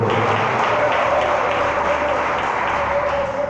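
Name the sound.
congregation applause for Jesus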